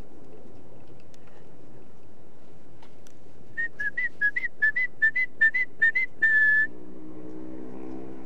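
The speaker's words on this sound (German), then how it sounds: "So, mal kurz gepfiffen." A person whistles a short run of quick, rising-and-falling notes, ending on one held tone, against quiet background rumble.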